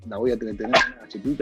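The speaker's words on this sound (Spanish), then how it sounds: "A ver si así deja de ladrar." A small dog barks in quick, high yapping bursts, several in a row with a short pause, close by and loud while someone speaks over it.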